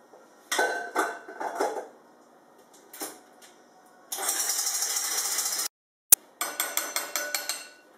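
Egg whites being beaten stiff in a bowl: scattered clatters and taps, then a loud steady whirring burst of beating for about a second and a half, followed by a run of rapid rhythmic rattling pulses.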